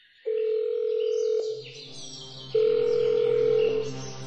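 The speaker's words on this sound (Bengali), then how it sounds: "কাকে যেন ফোন করলো" A telephone handset is dialed in an audio drama: two long steady tones separated by a short break, with faint chiming dial sounds between them, clean and close with no voices.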